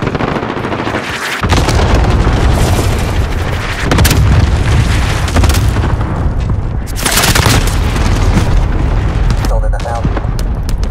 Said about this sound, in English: Strike incoming, take cover.